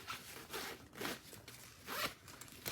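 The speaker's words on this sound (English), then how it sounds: "When you unzip the second zipper," Several quick rasping pulls of a packing cube zipper in a row, close and fairly quiet, each a short burst of scratchy teeth sliding open.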